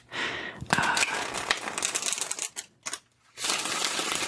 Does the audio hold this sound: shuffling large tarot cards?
yes